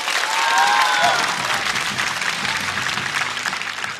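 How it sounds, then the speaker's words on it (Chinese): An audience at a Chinese stand-up comedy show breaks into sustained applause, a dense wash of clapping with a brief whistle or cheer near the start, holding steady and loud throughout. "再次掌声送给 Harry。"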